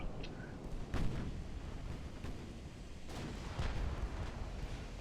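Heavy warship guns booming in Ultimate Admiral: Dreadnoughts, a German 1910 fleet trading fire with an enemy battleship, several deep, loud blasts rolling out at irregular intervals over a rumbling background.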